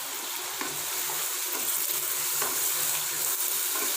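Mutton karahi frying in a pan with whole chilies and ginger slices, a steady close sizzle and crackle with faint stirring clinks, no voices.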